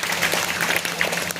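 An audience at a Buddhist monastery ceremony in India claps in a brief, dense burst close to the microphone, over a low steady hum.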